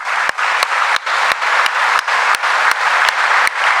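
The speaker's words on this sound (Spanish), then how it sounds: "vamos a darle un aplauso a nuestros visitantes" A church congregation applauds visiting guests during a service, a steady dense wash of clapping with a few sharp louder claps standing out at irregular moments throughout.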